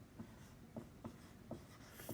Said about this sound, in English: We can write it like this.